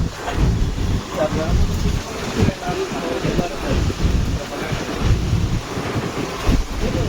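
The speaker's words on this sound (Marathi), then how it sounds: "पाऊस बघा मुसळधार चालू झाला इथे" Heavy rain in Hyderabad mixed with strong gusts of wind buffeting the microphone, a rough, roaring wash of noise that swells and dips.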